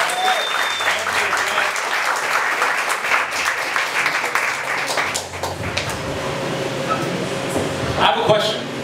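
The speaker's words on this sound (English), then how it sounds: "let's give them a round of applause" A lecture audience breaks into loud, sustained applause after inspirational talks on health, the clapping dense for several seconds before thinning, with voices audible over it.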